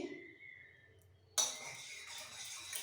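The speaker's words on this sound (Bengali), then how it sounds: "আমি এখানে এক চামচ আর একটা বাটিতে জল নিয়ে নিচ্ছি এর মধ্যে সামান্য একটু ফুড কালার দিয়ে দিচ্ছি" A spoon clinks against a bowl while stirring food colouring into water for an egg dum biryani, giving a sudden metallic knock followed by a soft rattling swirl, close and fairly quiet.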